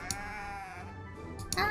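Sheep in a farm management game let out a single drawn-out wavering bleat, close and clear, with short clicking game sounds at the edges.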